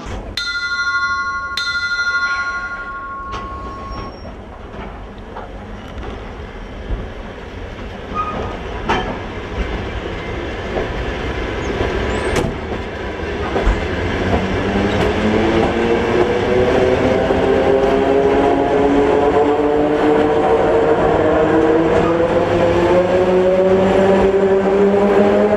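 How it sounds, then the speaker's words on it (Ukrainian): A train sits at a railway station platform on track six while a bell rings briefly at first. Then it pulls away with rising engine and wheel tones, growing loud and close. "Поїзд знаходиться на 6-й колії з лівої сторони вокзалу."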